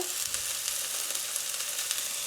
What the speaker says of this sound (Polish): Na rozgrzany olej wrzucamy kiełki.